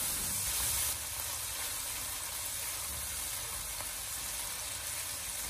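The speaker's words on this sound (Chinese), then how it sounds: "再往里面添加一勺豆瓣酱，然后再继续的小火翻炒，把豆瓣酱的香味翻炒出来" Ginger, garlic and doubanjiang stir-fried over low heat in a wok, a steady soft sizzle and hiss running throughout, slightly louder in the first second, with no talking.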